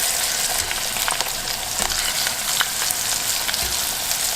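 Chicken skin fries in hot oil in a small pot, giving a loud, dense, continuous sizzle and crackle throughout with no talking.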